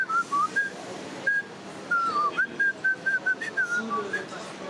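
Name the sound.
person whistling a zouk song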